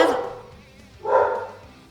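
A dog gives a couple of drawn-out, howling barks close by, one at the start and a longer one a second later.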